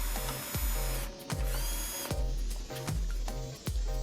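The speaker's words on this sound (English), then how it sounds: "I'll need a hole for the cable, since this is where the cable will wind around, so I drill that now." Power drill boring a hole for a cable in a homemade cable vise, running in repeated short bursts with revving whine and brief pauses, close and loud.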